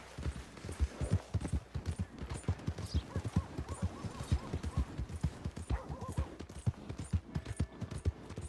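Horse hooves clip-clop in a steady rhythm in the video game Red Dead Redemption 2, fairly close and moderately quiet, with a brief whinny partway through and a faint background ambience.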